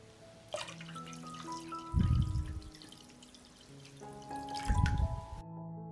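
Water is poured into a pot holding jars set on a cloth, heard as two short gushing pours with soft drips, over gentle background music.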